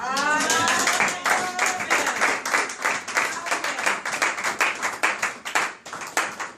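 A church congregation applauds during a Sunday service, a dense, steady burst of many hands clapping that fills the whole stretch, loud and close, with voices faintly mixed in at the start.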